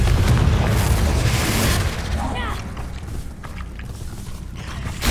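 A Confringo fire-blast spell in Hogwarts Legacy goes off in a loud, rumbling boom that fades into crackling debris and clatter, with voices shouting spell names around it.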